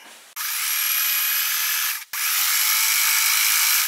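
A sewing machine stitching a quilt near the ditch runs with a steady, close, high whirring drone. It stops for a moment partway through, then carries on, and no one talks.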